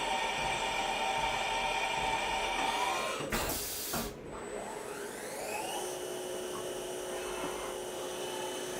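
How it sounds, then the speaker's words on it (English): A CNC machine changing its tool to an OSG thread mill: a steady mechanical hum and whine, with a brief whooshing clatter midway as the tool swaps, then the drone settles again. "now the machine's going to go grab our OSG thread mill."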